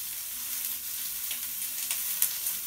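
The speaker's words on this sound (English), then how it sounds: "We're going to caramelize these onions and everything" Onions frying and caramelizing in a pan for spaghetti and meatballs, giving a steady, even sizzle with faint crackles and a few brief pops, heard close up with no voices.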